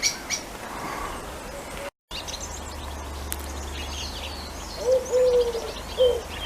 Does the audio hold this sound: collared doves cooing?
yes